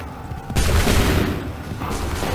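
A musket volley from a line of soldiers in Assassin's Creed 3 bursts out as a loud, crackling fusillade after a quieter moment, followed by rumbling echoes and scattered reports.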